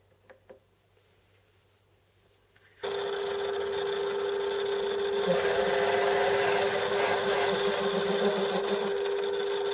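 A lathe machines the back of a 2-inch V pulley, the motor starting after a quiet opening and then running steadily with a continuous hum and a higher cutting whine layered on top, close and loud.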